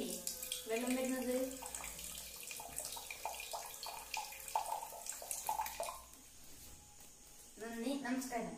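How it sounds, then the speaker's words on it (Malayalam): Water flows out in a simple school experiment, a running, splashing trickle heard alongside a voice talking over much of it. "കണ്ടില്ലേ വെള്ളം വരുന്നത്?"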